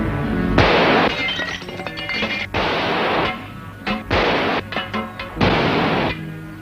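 Film gunshots striking metal cans, heard as loud, close bursts of cracking, clattering impacts in several dense clusters separated by short gaps, with brief bits of voice between them.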